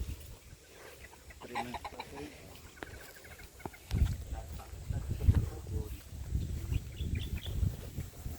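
Roosters crow and cluck in the background among other farm birds, while people talk nearby.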